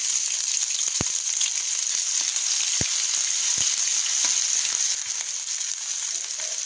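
Ginger garlic paste sizzles in hot oil in a pan with cumin seeds, a steady bright crackle with a few soft stirring knocks, no voices over it.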